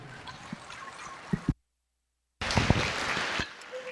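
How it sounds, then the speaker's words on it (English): Crowd applause at a county fair livestock show, steady clapping from a gathered audience that breaks off into a short silence before resuming strongly, with a faint voice briefly audible at the end. "Let's give these kids a round of applause and show them our appreciation."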